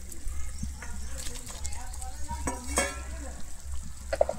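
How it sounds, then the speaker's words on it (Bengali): Fried eggs dropped into simmering egg korma gravy, soft bubbling and sizzling with a few wet plops and stirring scrapes nearby, while a person talks. "আমি এরপর এখানে দিয়ে দিচ্ছি ভেজে রাখা ডিমটা।"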